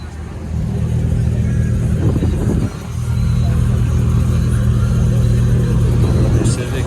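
A Honda Civic at a New York City car meet sends out a steady, low, close engine rumble with a brief dip and a rise in revs, while nearby people talk over it.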